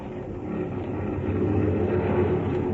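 Airplane engines rev before takeoff as a sound effect, a broad, roaring rumble that swells in loudness and holds steady, heard alone with no voices.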